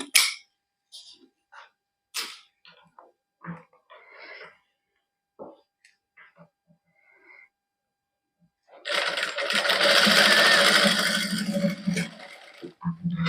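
A sewing machine stitching a hand-work party-wear suit runs in one loud, steady burst through the last few seconds, after a stretch of scattered handling clicks and a few quiet spoken words.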